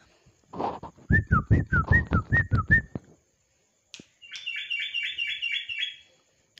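A caged crucuk songbird calls up close, first a loud rapid series of rising whistled notes, then after a short pause a quicker, higher trilling burst.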